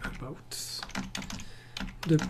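A short burst of computer keyboard typing as a Firefox config address is entered, with key clicks heard close up alongside someone speaking.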